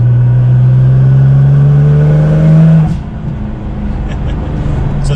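Nissan GT-R R35 accelerating in fourth gear on a slow pull as boost builds, a loud close engine drone rising steadily in pitch, then the throttle lifts and the engine drops to a lower idle with faint clicks.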